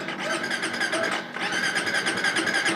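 A motorcycle fitted with an anti-theft cutoff that kills the engine when put in gear: the electric starter whirs and cranks steadily for almost three seconds without the engine catching, loud and close, with no talking.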